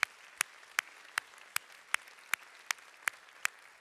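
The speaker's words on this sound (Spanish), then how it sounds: "¿Quién le da un aplauso al Señor?" Sparse, evenly spaced single claps from a church congregation at the close of a Spanish-language worship service, about ten sharp hand claps ringing out one by one in a steady rhythm, fairly faint against a quiet room.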